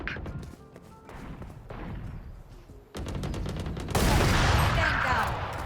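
Gunfire in the shooter game Valorant: bursts of rapid shots and sharp single cracks, close and loud, building into a dense stretch of sustained firing in the final seconds.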